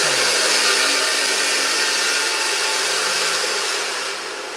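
Power tool whine in a workshop where a roll cage is being fabricated for a Porsche 935, a loud broadband whirring that holds steady then fades slightly at the end, no voices.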